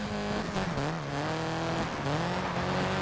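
Rally car engine held at full throttle in the racing game Colin McRae Dirt 2, a continuous loud revving drone that rises and dips in pitch with tire noise underneath, no voices.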